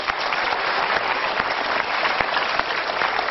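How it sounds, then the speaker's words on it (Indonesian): A studio audience at an Indonesian television show claps together in a short, dense burst of applause that stays steady for about three seconds, close and bright, with no speech over it. "Tepuk tangan untuk pilihan Anda."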